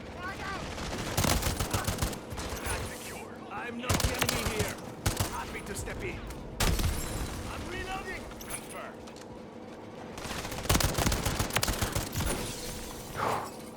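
Bursts of rapid gunfire from weak weapon builds in the Call of Duty MW3 video game, repeated clusters of shots over constant game noise.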